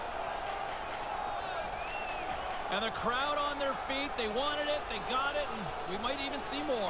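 NHL 21 hockey video game crowd roaring during a fight in a rivalry game at Ottawa, with a steady arena cheer beneath commentators talking.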